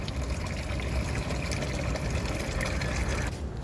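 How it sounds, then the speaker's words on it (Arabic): Tap water pours steadily into a container being filled for street cats, a dense, continuous splashing rush that holds at one level before easing slightly at the end. "ملينا ميه يا جماعه"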